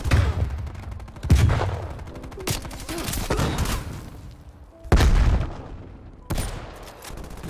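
Sniper and gunfire shots ring out in Call of Duty Black Ops Cold War, fired from a Swiss K31 sniper rifle: four sharp, loud reports spaced a second or more apart, with game sounds between them.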